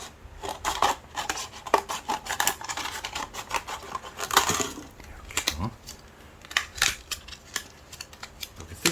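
Scissors snip through a transparent plastic drink cup in a rapid series of sharp, close cuts and crinkles, with brief pauses between bursts.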